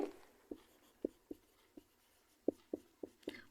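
Pen strokes scratch across paper while a class 10 maths solution is written out by hand. Eight or nine short, crisp taps and scrapes fall at an uneven rhythm, close and quiet, with no talking.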